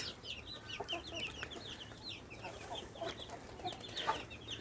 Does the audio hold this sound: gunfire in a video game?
no